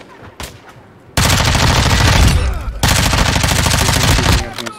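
Loud, sustained automatic gunfire rattles in Call of Duty DMZ, two long bursts split by a short pause, with scattered shots just before them.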